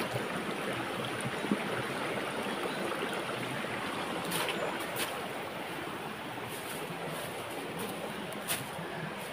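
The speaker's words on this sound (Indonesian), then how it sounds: "Jadi suara air sungai sangat keras sekali." Loud river water flowing near cornfields in East Java: a continuous broadband rush and roar, steady and close, with a few faint high clicks over it and no talking.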